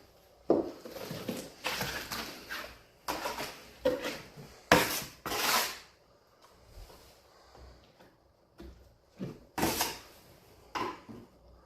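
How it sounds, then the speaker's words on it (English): A trowel scrapes across a wall surface in a series of close, rasping strokes, each a few seconds long, separated by short pauses. "And turning the trowel like that"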